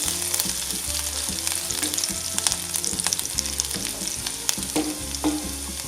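Cumin seeds and chilli pieces crackle and sizzle in hot oil while being stirred, a steady close frying hiss with rhythmic spatula scrapes and occasional sharper pops, no talking.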